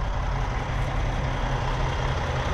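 Compressed air from a tractor trailer's air supply rushes into a connected hose, a steady loud hiss with low rumble underneath, continuous throughout without talk.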